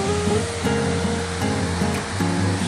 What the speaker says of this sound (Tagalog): Chifen Waterfall.